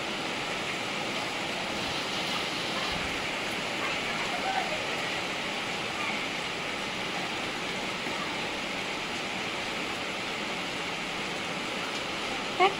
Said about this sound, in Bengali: জোরেই হচ্ছে বৃষ্টি।